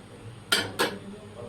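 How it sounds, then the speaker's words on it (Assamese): A lid clanks twice onto a metal pot of pork and bamboo shoot boiling over high flame for the Mising dish namsing, two sharp close clinks about a quarter second apart over a quiet kitchen background. "ঢাকনা মাৰি থৈ দিম, ধুনীয়াকৈ বইল হৈ থাকক।"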